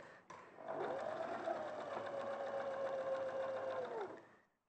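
A sewing machine runs in one continuous stitching pass, a steady whirring hum with a fast rhythmic needle tap, stitching scalloped pockets onto wadded fabric, close and fairly quiet, starting after a click and winding down at the end.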